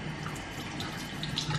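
Tap water runs steadily into a sink, a continuous close hiss and splash with no talking.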